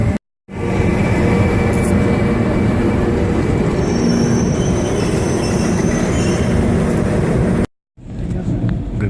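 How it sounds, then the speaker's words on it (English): A passenger train pulls into a Lisbon station with a loud, steady rumble of wheels and carriages close by, a faint squeal over the top, broken by two brief moments of silence. "Here's my train now"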